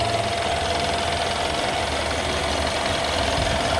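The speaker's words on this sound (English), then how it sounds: "I guess the engine sound, regular, consistent, right?" A Mercedes-Benz S-Class S 500 L with a large V8 idles steadily up close, a regular, consistent low rumble with a faint hum and no talk over it.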